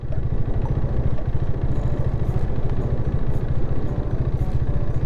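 A motorcycle engine idles nearby at the Chirihama rest house during the SSTR 2022 motorcycle rally, with a steady, loud, throbbing putter, running alone without talk.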